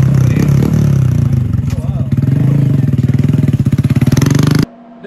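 A Triumph Daytona 675 engine running indoors, a loud close rapid pulsing rumble with rattling clatter that cuts off abruptly near the end, with voices over it.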